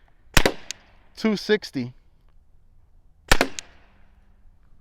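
A compact PepperBall Lifelite launcher fires two sharp, loud pops about three seconds apart, with a person speaking briefly in between.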